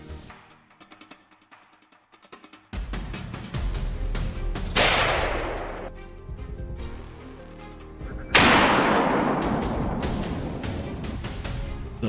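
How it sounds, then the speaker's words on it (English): Gunfire rings out during a wild boar hunt from distant ambush points, with several sharp, loud reports whose echoes decay slowly, the strongest two arriving a few seconds apart. "the familiar sound of gunfire echoes from other ambush points"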